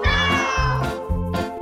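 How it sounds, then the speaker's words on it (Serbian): A cat meows repeatedly up close, several drawn-out, tonal cries in quick succession, loud and clear with no other voices. "Ovo je stvarno jako lepa maca"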